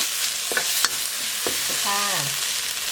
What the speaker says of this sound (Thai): ผัดไปเลยค่ะ น้ำมันคุกคิกเริ่มใส่เยอะเยอะ